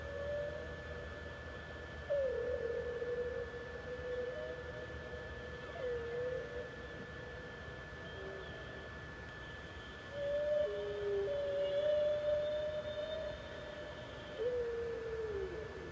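A male humpback whale sings underwater, long moaning and whistling tones rising and falling in drawn-out phrases over a steady ocean hum, with louder calls at intervals.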